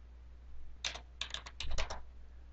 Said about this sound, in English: It's as easy as typing in the code